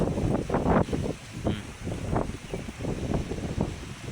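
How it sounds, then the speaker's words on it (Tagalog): Rough surf at a resort shore in Matabaw, with waves surging and crashing in uneven bursts under a constant wind rumble, loud and close, without speech. "Ang lakas ng alon dito."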